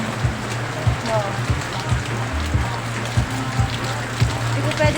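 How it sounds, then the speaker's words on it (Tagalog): Rain pours down in a dense, continuous hiss, while someone speaks quietly in short bursts beneath it. "Tingnan nyo, umuulan po guys."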